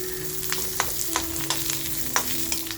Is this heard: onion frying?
yes